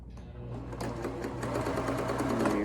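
A sewing machine runs a zigzag stitch along the long side of a stretchy neck gaiter, its motor whirring up from a start and then running in a steady, close, rhythmic buzz.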